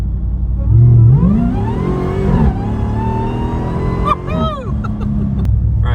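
A Dodge Challenger Demon V8 fitted in a Jeep Gladiator on Dana 60/80 axles and long-arm suspension revs hard, its pitch sweeping up and then easing off in loud, close bursts.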